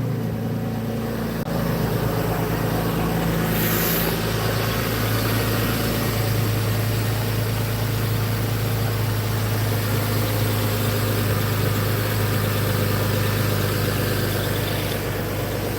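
A car engine idles steadily right after starting, with an air valve open, giving a constant loud droning hum with a faint whine. It continues unchanged throughout.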